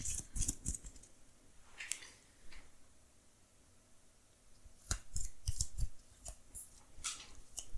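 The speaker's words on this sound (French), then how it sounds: "Donc voilà, je vais mélanger." Cards for the Arkham Horror card game being shuffled: close, crisp clicking and flicking in two clusters, one near the start and a denser run toward the end, with a quiet stretch between and no talk.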